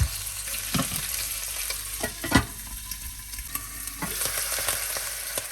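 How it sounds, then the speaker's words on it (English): Oxtails sizzle and fry in a pan as they are turned, a steady close crackle punctuated by sharper bumps and scrapes of the pieces being moved. "Let's now turn our oxtails."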